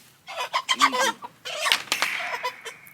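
Chickens, including a leghorn, cluck and squawk agitatedly at close range before butchering, in a flurry of short calls with a sharper cry near the middle.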